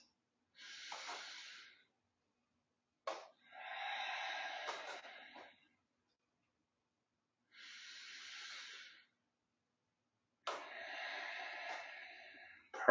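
Deep, full breaths taken while standing tall and balancing in a wellness break, heard as four airy close-up breath sounds, inhales and exhales separated by near-silent gaps, with no talking.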